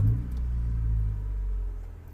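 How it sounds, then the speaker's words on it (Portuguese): A 1998 Honda Civic EX engine settles into a low, steady idle rumble just after it is started, close and even for about two seconds, with no talk. "Vou aqui ligar o carro."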